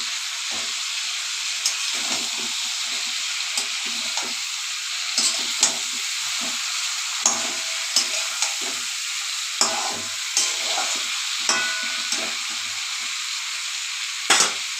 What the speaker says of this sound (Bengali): এবার আলু ফুলকপিগুলো দিয়ে আবার কষিয়ে নেব।